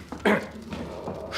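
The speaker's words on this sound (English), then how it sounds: "Is that dog secure, Miss Bing?" A dog gives a short bark followed by soft whimpering yips, fairly close, amid quiet indoor background.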